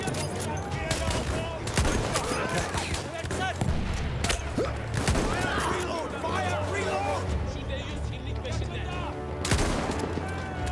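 Rapid gunfire bursts and single shots from a Battlefield 1 World War I battle, rifles and a shotgun crackling nonstop over a dense din of explosions, with a player's voice talking throughout.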